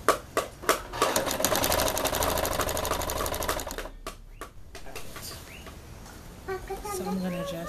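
A sewing machine stitches the band of a bowband circle skirt in a fast, close, loud run of even mechanical clatter that stops partway, followed by quieter handling noises and a voice talking.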